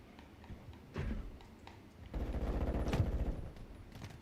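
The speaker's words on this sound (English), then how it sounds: "Hostiles deployed a remote turret" A remote turret firing in Call of Duty Modern Warfare, a short burst of gunfire followed by a longer sustained rattling volley, moderately loud amid battlefield noise.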